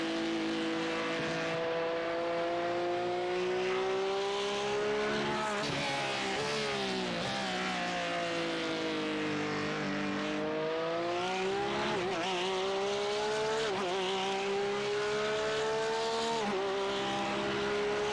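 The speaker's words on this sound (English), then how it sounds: "Couple of cars still out on the track trying to get those last few moments of warm-up ready to go." Race cars on Weathertech Raceway Laguna Seca in iRacing, engines droning loudly and steadily through gear changes, their pitch rising and falling as they pass, continuous and close with no talk.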